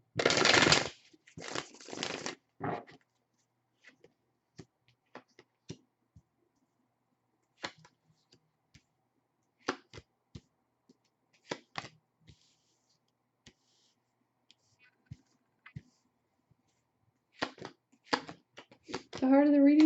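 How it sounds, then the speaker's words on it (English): Short bursts of cards being riffled and shuffled, a dense flurry at the start, then scattered soft clicks and taps, with a louder rustle near the end. "Just one more shuffle."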